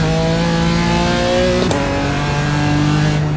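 A BMW M4 in a racing simulator powers out of a corner at the Nürburgring, its engine note loud and steady, rising pitch with a brief shift blip midway, no talk over it.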